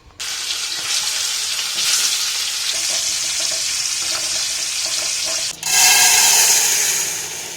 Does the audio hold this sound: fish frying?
yes